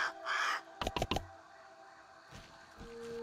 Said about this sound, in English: And I hear the bird out there.